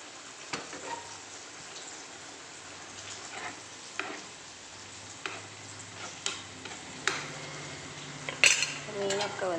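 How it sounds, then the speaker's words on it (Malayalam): A clay pot of Kerala fish curry with mackerel and mango is shaken to stir it, giving scattered light clinks and scrapes of pot contact over a steady simmering hiss, with no voices. "അപ്പോൾ ഒന്ന് ചട്ടി അടക്കം ഒന്ന് ഇളക്കി വെക്കാം."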